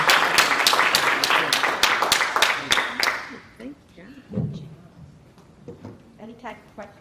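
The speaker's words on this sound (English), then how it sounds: "let's give our esteemed panelists a round of applause" Audience applauding panelists at a diversity in STEM panel session, loud rhythmic clapping for about three seconds that fades out, followed by quieter room sounds and talk.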